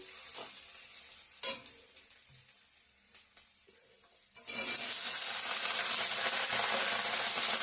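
Spices including onion, dried red chilli, bay leaf, ginger and panch phoron hit hot oil in a kadai. Quiet clatter gives way to a loud, steady, close sizzle that fills the second half.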